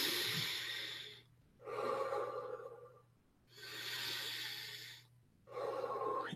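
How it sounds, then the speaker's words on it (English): Slow, deep breaths drawn in through the nose and let out through the mouth, three long full exhalations alternating with short quiet pauses, close and clear with no talking. "in through the nose, out through the mouth"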